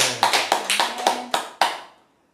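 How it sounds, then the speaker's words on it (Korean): Church congregation applause, a short burst of several sharp rhythmic claps in quick succession, loud and near, ending abruptly into silence. "하나님께 영광의 박수를 드리겠습니다"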